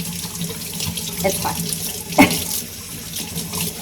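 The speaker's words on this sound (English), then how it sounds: "Each leaf is going to get washed." Water runs steadily from a tap into a sink while plant leaves are washed front and back with a little dish soap, a continuous close splashing hiss with brief spoken words over it.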